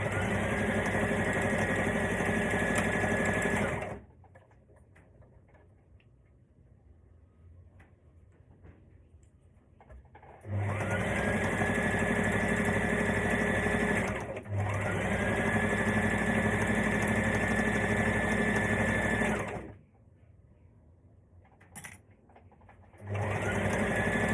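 A sewing machine stitches the side seam of a maxi skirt in three long, steady runs of fast mechanical whirring, separated by quiet pauses, with a brief burst near the end, close and clear.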